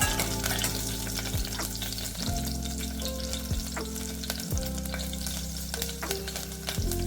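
Bay leaf, cardamom, cloves, cinnamon and star anise fry in hot oil with a dense, continuous sizzle, close and loud throughout, with no voices over it.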